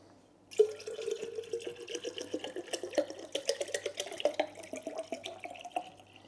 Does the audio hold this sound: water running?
yes